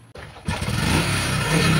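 A motorcycle engine with an AC-type ignition fires up after a short quiet moment, catching and settling into a steady, loud idle with a slight rev near the end, heard up close with no one talking.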